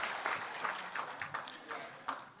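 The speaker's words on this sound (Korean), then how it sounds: "우리 뜨거운 박수로 환영하겠습니다" A church congregation at a Korean Sunday worship service claps in welcome, a fairly soft, diffuse spread of applause with some irregular louder bursts.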